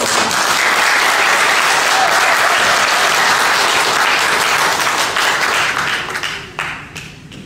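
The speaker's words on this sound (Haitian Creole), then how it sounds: "allait tout de suite recevoir un chaud d'applaudissements d'un public vraiment très chaleureux" An audience at a celebration event applauds warmly, a dense, loud wash of clapping that holds steady for several seconds before thinning out and fading near the end.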